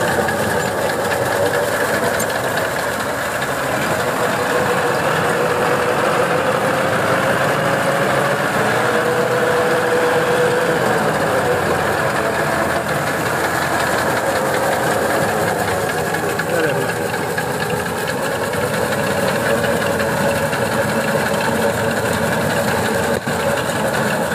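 A small wheat reaping machine running and cutting a field, a steady loud engine drone with rattling, vibrating mechanical chatter throughout, a voice talking over it.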